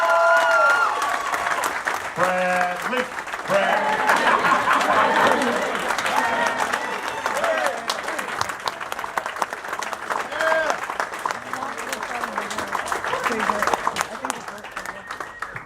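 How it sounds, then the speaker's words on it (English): An audience gives a loud, sustained round of applause with whoops and cheering, steady clapping throughout while a voice speaks over the crowd. "can we get one last round of applause for this man right here?"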